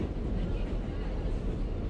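A New York subway train runs with a steady, close, broadband rumble and rattle that holds at an even level throughout, with no clear speech over it.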